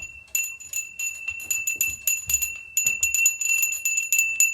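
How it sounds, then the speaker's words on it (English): A small bell rings close and clear, struck in quick repeated bursts with bright ringing tones that carry on for the whole stretch. "Sometimes you hear a bell."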